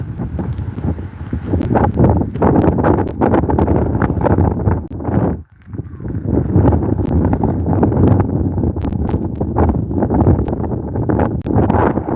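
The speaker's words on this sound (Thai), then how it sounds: "ลมจริงๆนะ" Strong cold wind blusters outdoors and roars into the microphone as continuous loud buffeting, with a brief lull partway through. No voices are heard.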